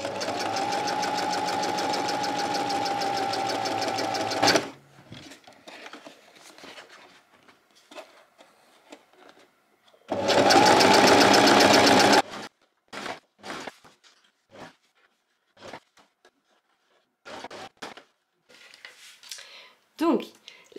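Close electric sewing machine stitching a fold along the edge of a hood, with a steady buzzing run, a long pause filled with a woman's speech, then a second short burst of stitching.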